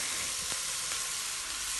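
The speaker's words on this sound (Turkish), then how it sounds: "Bunları ilk önce ocağımda güzelce her tarafından gördüğünüz gibi mühürlüyorum." Meat pieces sear in a hot pan on a stovetop, giving a steady, close sizzle and frying hiss with a few faint clicks, and no voices over it.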